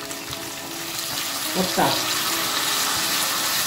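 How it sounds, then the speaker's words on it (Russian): A splash of water hits potatoes frying in a pan, setting off a loud, close sizzle that swells midway and keeps hissing. Someone speaks briefly over it. "я добавлю еще чуть-чуть воды"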